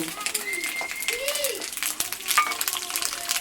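Onion, whole garam masala, bay leaf and garlic being stirred in a pan while frying, a soft sizzle with scraping stir strokes sitting under a voice and faint background noise.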